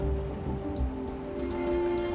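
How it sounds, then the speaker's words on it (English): Steady rain falls across a rainforest track in Cape York, a dense even patter with a faint low rumble underneath, continuous and fairly near. "the rain continues to fall from above, making the ground even more saturated"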